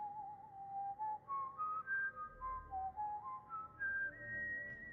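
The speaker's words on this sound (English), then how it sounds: "and I hear the whistling again" A wavering, tuneful whistle drifts up and down in pitch, carried in short connected phrases over a faint low rumble, clear and fairly close.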